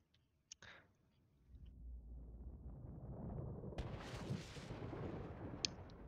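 In the video game Heroes of the Storm, a few sharp clicks give way to a swelling rumble and then a heavy explosive blast that roars and crackles before tapering, all at low overall level.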